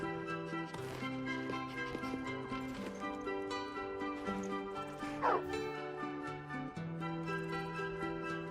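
A dog barks in Skyrim, a short sharp bark over steady orchestral game music that plays throughout, with faint footsteps and ambient noise.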